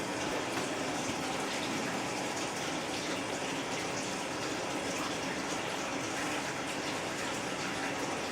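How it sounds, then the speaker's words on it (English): Hot water gushes steadily from a tap feeding a Whirlpool gas water heater, model ND50T122-403, a constant broadband rush with no breaks, fairly loud and close, with no talk over it. "Turn on the hot water real quick."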